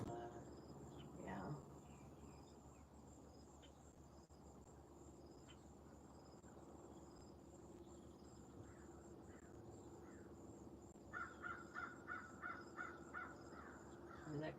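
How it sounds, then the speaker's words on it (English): A crow caws outdoors at sunrise, a quick run of caws near the end that sound faint and distant over steady chirring insects and a quiet background. "There's that crow again."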